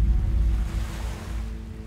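Sea waves around a coastal research vessel, a heavy low rumbling wash with wind buffeting the microphone, loud and steady, slowly easing off.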